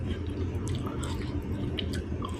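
Close, soft chewing and wet mouth sounds while eating rice with khi lek (cassod leaf) curry, steady and continuous with a low background hum.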